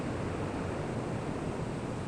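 Ocean waves breaking on a sandy beach, a steady broad wash of surf heard continuously and moderately loud with no distinct individual crashes.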